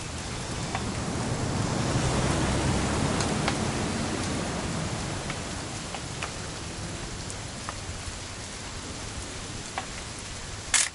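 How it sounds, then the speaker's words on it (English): Steady rain falls throughout a video game scene, a dense even hiss with scattered brief drop ticks, fairly close and continuous for the whole stretch without talk. "It's gonna rain the whole weekend"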